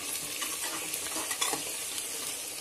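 Chopped onions fry in a pan for a spicy potato and green chili keema, giving a steady, close sizzle with light crackles and occasional stirring scrapes throughout.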